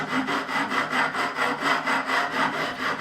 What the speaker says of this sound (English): I'll very, very carefully smooth off these fret ends